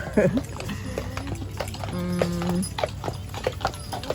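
Hooves clip-clop in an uneven rhythm on pavement, moderately close, on a street on Mackinac Island, Michigan, mixed with crowd chatter and street noise.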